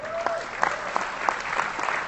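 Audience applause at an internet marketing conference in Las Vegas, a steady wash of clapping at moderate volume with a few sharper claps standing out, alone for about two seconds.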